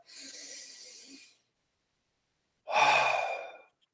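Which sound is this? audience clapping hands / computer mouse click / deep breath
deep breath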